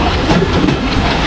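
A Mallika commuter local train pulls out of Rajshahi Court railway station in Rajshahi, its rolling rumble and rail clatter steady and close throughout the short stretch.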